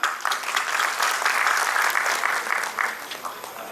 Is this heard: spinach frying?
no